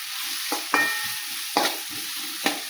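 Tomato and tamarind juice fry in a pan, a constant bright sizzle broken by four distinct spatula stirs and scrapes at a loose rhythm, close and clear with no talking.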